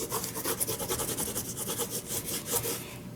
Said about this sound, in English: so now we will burnish those